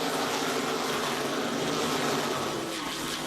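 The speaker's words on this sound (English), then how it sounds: "Nine cars single file on point" A pack of Whelen Modified race cars at New Hampshire, a dense, loud engine roar holding steady throughout, no voices.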